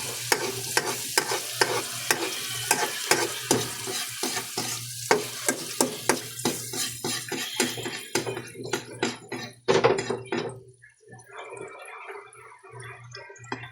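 Garlic frying in hot oil, a rapid run of close scraping stirs and spatula taps over a constant crackling sizzle that thins out and grows sparse toward the end.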